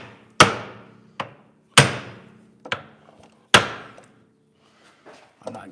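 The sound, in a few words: ball peen hammer striking tie rod at steering knuckle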